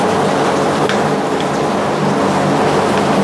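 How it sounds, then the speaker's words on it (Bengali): Heavy rain pours down steadily and loudly nearby, a dense continuous roar of drops with no talking over it. "আর বৃষ্টিটাও ভালোই পড়ছে, খেপে খেপে খালি বৃষ্টি আসছে"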